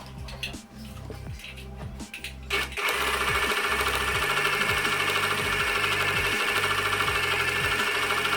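A sewing machine stitches the sleeves of a sleeveless top, starting with slower uneven clicks and then settling into a fast, steady mechanical whirr that runs continuously, close and clear.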